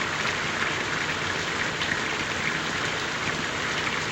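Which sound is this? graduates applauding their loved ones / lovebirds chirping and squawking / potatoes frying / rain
rain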